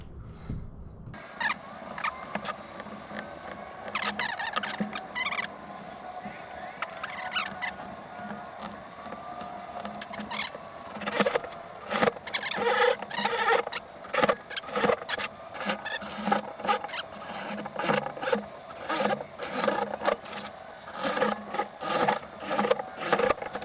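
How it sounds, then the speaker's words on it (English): Repeated scratchy rubbing and pressing as an awl marks start points for screw holes in plywood while caster wheels are fitted to a bandsaw, a steady rasping bed with frequent sharp scrapes and taps, close and fairly loud, no talk. "I have an awl, and I'm gonna get a start point for every single one of these holes."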